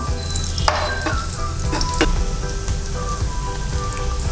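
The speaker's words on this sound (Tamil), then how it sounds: "பூண்டு கொஞ்சம் வதங்கட்டும்." Steady, loud sizzling of garlic frying in hot oil in a pan, with occasional stirring scrapes and pops.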